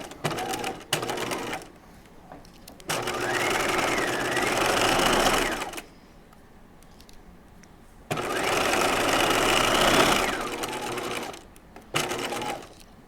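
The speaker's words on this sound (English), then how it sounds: "stitch around these two sides, the unnotched sides of the collar piece." A sewing machine stitches around the sides of a collar piece in two sustained, close bursts of rapid whirring, separated by a quiet pause and followed by short clicks and handling noise.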